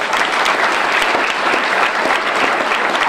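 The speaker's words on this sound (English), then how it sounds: "Clap your hands if you believe that." An audience at an NAACP Martin Luther King Jr. breakfast claps steadily, a dense, loud, even wash of many hands filling the room with no pauses.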